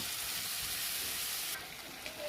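Food frying in a pan during home cooking, a loud, steady sizzling hiss throughout that eases slightly near the end.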